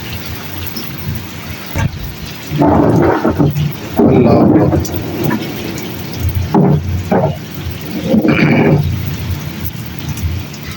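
Heavy rain pours steadily on surfaces in a village while deep rolls of thunder swell and fade several times, loud and close, with someone speaking briefly over the storm.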